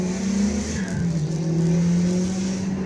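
Street-racing cars, including a Mitsubishi Evo and Honda Civics, rev and accelerate with a loud, shifting engine tone that rises and dips, then holds a steady howl.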